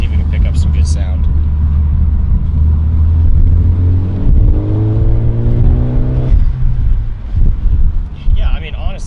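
Ford Focus ST with an aftermarket catback exhaust, heard from inside with the windows down: a loud engine drone rising through the gears with wind rush, shifting and climbing again, with a voice speaking briefly over it.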